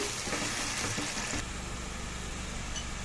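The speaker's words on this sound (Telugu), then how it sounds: "ఇప్పుడు టమాటా వేస్తాం. ఇది కూడా బాగా వేగాలండి." Tomato hits a pan of frying ginger garlic paste and onion for a crab curry, a loud, steady close-up sizzle that shifts midway as the ingredients are stirred.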